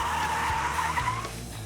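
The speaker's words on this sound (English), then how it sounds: "At the push of a button, the instructor can simulate skids." A Citroen C5 fitted with a simulated skid traction system squeals through a long tire skid under steady engine drone, close and loud, easing off near the end.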